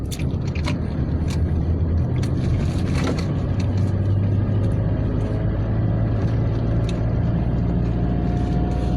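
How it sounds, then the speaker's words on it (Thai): Busy road traffic with many cars, motorbikes and big vehicles, a steady dense rumble of engines close by, with faint clicks and knocks scattered over it. "รถหลาย มอไซค์กันหลาย รถใหญ่กันหลาย"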